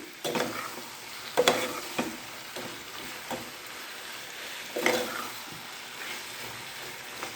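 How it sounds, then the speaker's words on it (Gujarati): A spoon stirs spices and tomato through a hot pan of green bean curry, with soft scraping strokes and a few sharper clinks over a steady low sizzle, close by and fairly quiet. "અને હવે આ બધું આપણે મસાલા મિક્સ કરી દઈશું"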